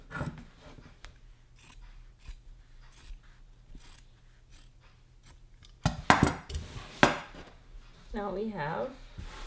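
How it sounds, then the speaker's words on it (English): Scissors cutting out a sleeve shape from fabric for a gathered maxi dress: a run of soft, irregular snips close by, with louder handling clatter midway and a voice speaking briefly near the end. "And we're just going to cut out that shape."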